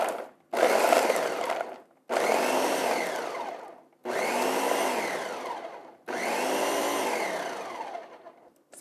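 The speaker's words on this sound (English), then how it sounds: "We're just going to pulse it. You could use a food processor as well." A food processor pulses cauliflower and walnuts into crumbles, running in four roughly two-second bursts separated by brief pauses. The motor whirs loud and close with a rough grinding texture.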